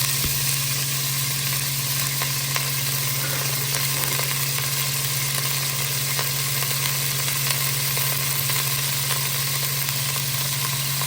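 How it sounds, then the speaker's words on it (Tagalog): Tofu frying in a pan for a tofu and chicken soup, a loud, steady sizzle and crackle of hot oil, continuous and close, with a constant low hum underneath and no talking. "Prituhin muna natin."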